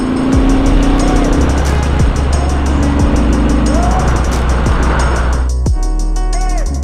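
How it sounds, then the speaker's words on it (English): Cars and a Jeep pass in traffic on a bad, rough road, heard from a moving motorcycle as a loud, constant engine and road roar with vehicles sweeping past. "Traffic, traffic, traffic."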